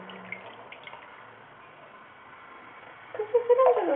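An Indian Ringneck parrot splashes in bath water, a faint watery patter through most of the moment that turns into a louder, closer burst of splashing near the end.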